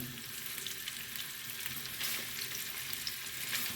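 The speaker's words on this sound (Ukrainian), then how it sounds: "Поки смажиться м'ясо" Meat for plov sizzles and crackles in a hot pan, a steady frying hiss with occasional pops and stirring sounds, close up and without talk.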